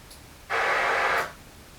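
A Genelec 8351 studio monitor plays a white noise test signal: a single steady broadband hiss lasting under a second, starting abruptly and fading out over a short tail, heard alone in a quiet room.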